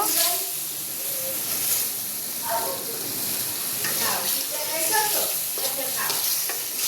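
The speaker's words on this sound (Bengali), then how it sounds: "মশলাটা আমি ভালো করে কষিয়ে নিব" Spice paste sautéed in a pan with potatoes and prawns waiting, a steady broad sizzle with intermittent scraping stirs, faint voices briefly surfacing underneath.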